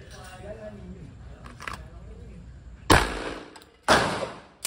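Two loud, sharp .45 pistol shots at steel plates crack out close by after a stretch of quiet talking, each followed by a brief ringing decay.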